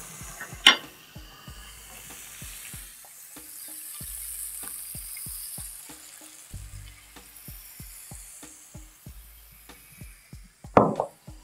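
A spoon stirs cream into a seafood pasta sauce in a pan, making steady sizzling and bubbling with repeated clacks of the utensil against the pan and two louder scrapes near the start and end. No voices.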